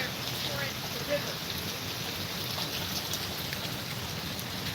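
Steady, dense rain pours down beside a flooding riverwalk, a constant hiss of drops on the surfaces nearby. It holds at an even level throughout, and nobody is talking.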